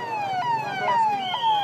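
An ambulance siren wails at a hospital fire in western India, a loud, close, wavering electronic tone that repeatedly sweeps down and back up over a steady low rumble.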